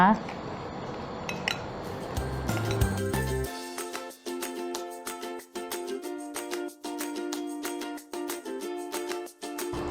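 A utensil stirs dry ingredients for avocado ice cream in a bowl, producing repeated clinking and scraping against the dish in an uneven rhythm, close and clear.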